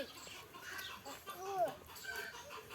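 Chickens cluck and murmur nearby in a quiet, busy stretch, with soft overlapping calls.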